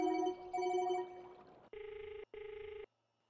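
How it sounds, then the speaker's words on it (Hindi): A phone ringback tone sounds: an uneven tone, then two identical buzzing rings of about half a second each with a short gap, then silence. "अभी घंटी जा रही है"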